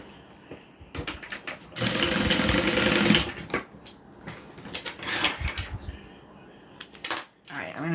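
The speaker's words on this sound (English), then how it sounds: "then I just take it and sew along the edge" An industrial sewing machine runs fabric along its edge, a loud, steady mechanical whir lasting about a second and a half in the middle, with shorter bursts of handling and clatter before and after.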